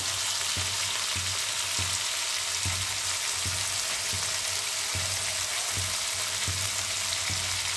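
Turnip curry is sautéed in a pan, giving a steady, hissing sizzle that stays fairly quiet under regular soft low thumps, roughly one every second.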